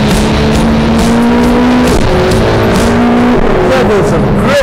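A Ferrari 488 Pista accelerates hard on a race track, its engine note climbing loud and close through rising revs, with shifts breaking the pitch into steps as it picks up speed.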